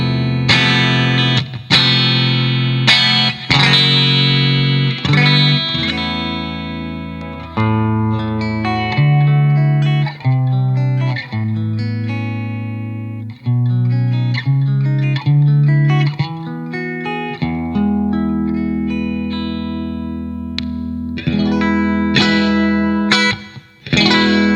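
Electric guitar through a Victory MK Overdrive amp, played on a different pickup: a continuous stream of saturated, distorted chords and single-note lines with some sustained notes. It stays loud throughout with no talking.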